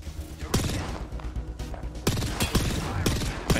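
Gunfire crackles in a battle-royale style shooter match, with several sharp, loud shots spaced unevenly over a low, busy background rumble.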